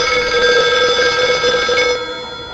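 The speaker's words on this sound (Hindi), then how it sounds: "शायद प्रीति को रिंग गया हो और उसी ने पलट के फोन किया हो" A telephone rings steadily with a bright, continuous electronic bell tone, loud and close, fading slightly at the end.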